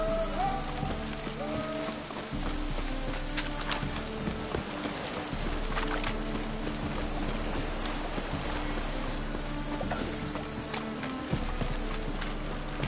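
Steady rain patters down in The Witcher video game, a constant hiss throughout with a horse's hooves clopping along beneath it.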